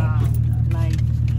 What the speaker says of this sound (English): The car is so freaking loud.